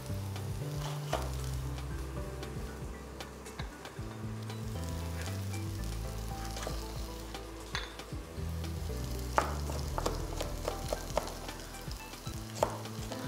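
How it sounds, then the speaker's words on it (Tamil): Onion and julienned capsicum sizzle steadily in a pan over a slow flame, with occasional stirring clatter and no talking. "இப்போ ஆனியன் வந்து நல்லா ஸ்லோ ஃப்ளேமில் நம்ம குக் பண்ணிகிட்டு இருக்கோம்"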